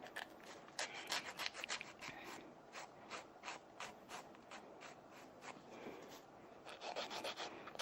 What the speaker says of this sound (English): I think I just want to come in a little bit more on the filing